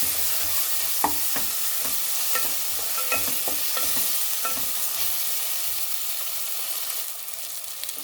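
Bagara rice with added salt cooking in a pot: a continuous close sizzle with a run of sharp clicks and scrapes from stirring, easing into a calmer, steady simmer toward the end.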